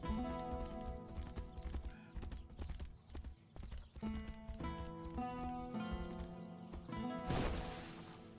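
Horse hooves clip-clopping in the Tainted Grail: Fall of Avalon video game, a steady rhythmic trot of close, clear hoofbeats over game music, ending in a burst of noise near the end.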